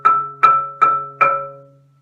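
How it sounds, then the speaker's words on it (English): Rosewood marimba bar struck over its resonator, four evenly spaced strokes, each a loud, clear tone that rings and sustains, the last fading out slowly. "But when you take the same bar and put it over one of the resonators of the marimba, it's going to be much louder"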